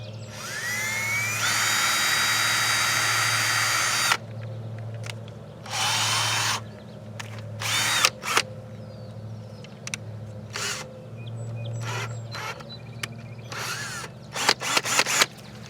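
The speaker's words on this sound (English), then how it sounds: "drill a little hole here" A power drill whirs steadily, then runs in shorter bursts with stops and clicks as it bores a small hole in a bottle cap, close by.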